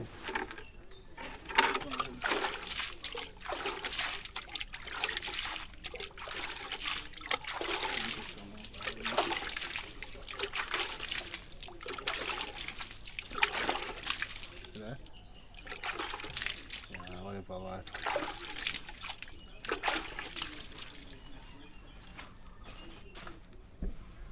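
Water splashes and trickles in repeated pours onto backyard garden plants, including garlic, in Kingston, Jamaica, with someone talking over it and birds cooing faintly in the background.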